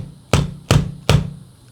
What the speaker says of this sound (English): When you don't have a hammer, you can use your drill.